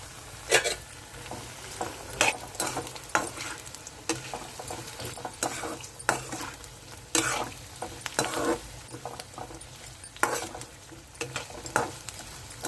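Ginger pieces frying in oil in a wok-style pan, crackling and sizzling steadily with bursts of spattering and occasional stirring scrapes, close and moderately loud with no talk.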